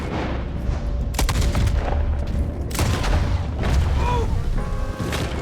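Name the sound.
gunfire in Red Dead Redemption 2 video game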